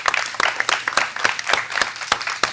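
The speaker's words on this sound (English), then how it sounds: "Can you guys give him a round of applause, please?" A small group of youth soccer players claps as a round of applause, uneven individual hand claps standing out sharply in a loose, close, scattered rhythm.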